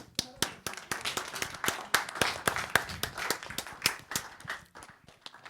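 Congregation clapping together at a church service, a steady run of sharp hand claps building into applause over several seconds, fairly close, with no voices over it.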